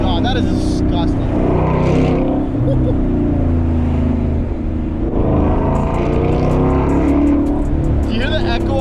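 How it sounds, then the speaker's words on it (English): Loud, deep exhaust drone from a Ford Mustang GT 5.0 S550 with an H-pipe, heard from the cabin while driving past other cars, swelling and easing with the revs as someone speaks over it. "Do you hear the echo off each car that I'm passing here?"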